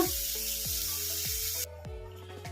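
Tomatoes and green chillies fry in a kadai for carrot chutney, hissing in a dense, close sizzle that drops suddenly to a quieter crackle, with a repeating swooping tone in the background.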